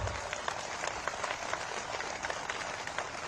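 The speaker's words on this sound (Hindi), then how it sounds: "एक बार तालियां बजाकर इनका जब स्वागत कर दीजिए जोरों से" A large outdoor election rally crowd in Unakoti, Tripura claps steadily to welcome candidates, a dense patter of many hands that holds an even loudness throughout.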